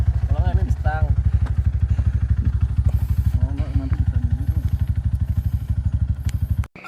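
A WR motorcycle engine runs with a fast, steady thumping beat while pulling on a webbing strap at a river bridge, loud and close, with people talking and shouting over it before it cuts out abruptly near the end.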